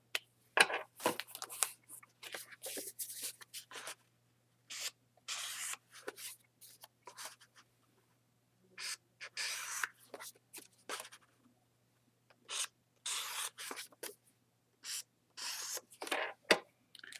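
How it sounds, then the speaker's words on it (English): Ink pad or sponge dabbed and rubbed along scored paper edges while building a mini album, a close series of short rubbing bursts separated by pauses, alone with no talk. "Going to go ahead and ink the edges."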